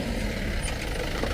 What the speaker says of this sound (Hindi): गाड़ी भी आ चुकी है यहाँ सामने से।